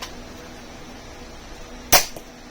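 A Nerf Rival shotgun fires once near the end. The loud, sharp snap of the shot stands out against a quiet indoor background, close to the listener, with no one speaking.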